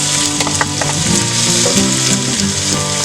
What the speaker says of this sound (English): saute the onions till they turn a golden brown